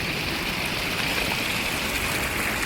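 A natural spring bursts from the earth beside the overflowing pond at Chavand village near Jadeshwar Mahadev, giving a steady, close rush of flowing water that stays constant and dense without pauses or voices.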